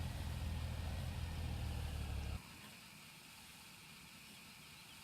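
Tractor engine idling in Farming Simulator 17, a loud low rumble that cuts off abruptly halfway through, leaving a quieter steady hum.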